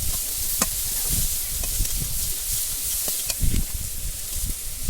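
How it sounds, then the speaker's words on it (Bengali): Prawns with turmeric and salt fry in oil in a wok, a steady close hissing sizzle broken by occasional spatula scrapes and stirring knocks, with no talking. "কড়ায় খানিকটা তেল দিয়ে চিংড়ি মাছটা ভেজে নেব লাল লাল করে।"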